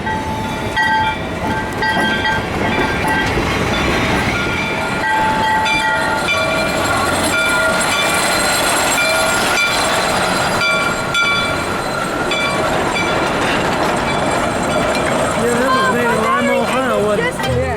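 The Durbin Rocket train rumbles past with continuous clattering and rolling noise, loud and close throughout, with people talking underneath.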